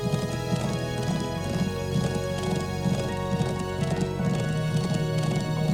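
Horse hooves clip-clop in a steady galloping rhythm while riding a mount in the Trails of Cold Steel video game, looping continuously over game music at moderate loudness.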